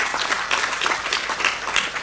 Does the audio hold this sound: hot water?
no